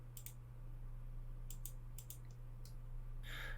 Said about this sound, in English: We can also invert this by clicking this icon right here.